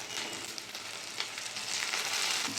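Spice masala with cumin, turmeric and Kashmiri chilli powders, chopped tomato and green chilli sizzling and frying steadily in a pan while shrimp cooks, a continuous close crackle with no talk.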